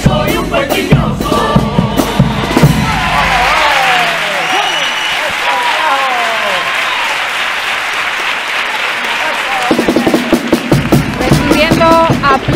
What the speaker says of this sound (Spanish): Recibiendo aplausos, la chirigota, los pelaigos